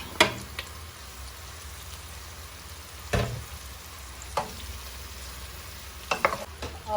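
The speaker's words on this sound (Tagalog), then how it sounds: "onion, tomato, and then we can now add the pork" Pork frying in a pan with onion and tomato: a continuous soft sizzle broken by several sharp stirring clatters and scrapes, with no voices.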